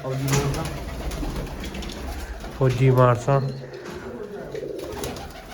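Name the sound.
red bearded pigeons cooing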